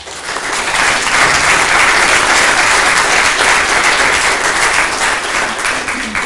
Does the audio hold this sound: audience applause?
yes